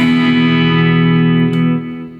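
An electric guitar played through a Kemper profile of a Marshall Super amp rings out as a loud sustained chord with distortion, compression, delay and reverb, fading toward the end.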